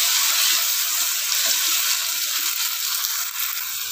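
Tomatoes sauté in a hot pan for mutton biryani, giving a continuous bright hissing sizzle at steady, moderately loud level with no speech.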